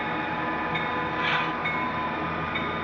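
Model-railroad SD diesel locomotive fitted with a Digitrax SD166D sound decoder: a steady electronic diesel engine drone with a faint horn-like tone, continuous and fairly close, with no talk.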